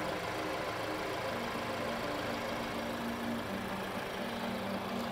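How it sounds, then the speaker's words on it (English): A brand new turbocharged Maserati hybrid four-cylinder engine idles steadily at close range, a continuous low mechanical hum with faint knocking texture and no voices. "Beautiful brand new Maserati engine."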